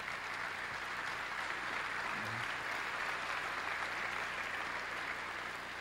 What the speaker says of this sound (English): Were my children applauding there?